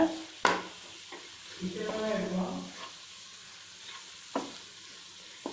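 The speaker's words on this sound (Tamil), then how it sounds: "நல்லா மிக்ஸ் பண்ணி விட்டுக்கோங்க" A spoon scrapes and stirs through a thick sweet corn gravy sizzling gently in a pan on low heat, with a few taps against the side and someone talking nearby.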